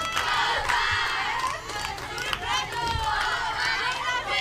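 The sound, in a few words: loud crowd and dugouts cheering at a softball game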